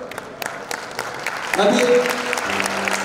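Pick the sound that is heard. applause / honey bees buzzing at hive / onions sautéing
applause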